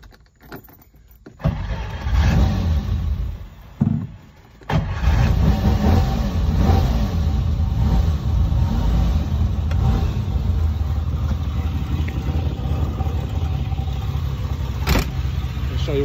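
A classic car with a 3-liter V12 engine cranks and fires up close by, then settles into a steady, loud running note with a few rises in revs.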